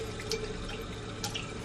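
Water from a kitchen tap pours steadily into a measuring cup, a continuous close splashing trickle with a few brighter drip-like plinks and no voices.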